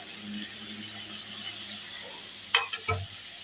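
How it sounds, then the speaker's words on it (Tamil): Onions and tomatoes fry in a pan with a steady soft sizzle, and a few brief utensil clatters land near the end. No voices. "தக்காளி சேர்த்து நல்லா அந்த தக்காளியும் வதங்குற வரைக்கும் நல்லா ஃப்ரை பண்ணணும்"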